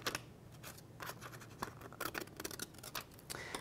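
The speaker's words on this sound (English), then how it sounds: "And I'm just going to cut it out," Scissors snipping through paper to cut out an image for a mixed-media art journal page, a quick series of crisp close cuts with small pauses between them.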